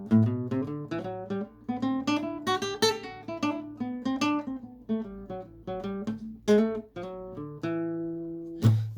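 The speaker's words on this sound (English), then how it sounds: "A swing rhythm will sound like this." Jazz arrangement played with a swing rhythm: uneven, lilting note groupings with syncopated chord stabs over a bass line, ending on a sustained chord, moderately loud and purely instrumental.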